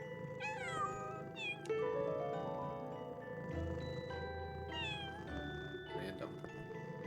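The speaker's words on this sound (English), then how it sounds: "Oh no, I'm allergic to cats." A cat in the video game Pocket Mirror meows a few times, in short sliding cries with pauses between them, over soft game music and a low hum.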